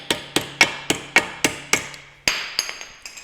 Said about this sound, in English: Notice that I'm hitting the plate.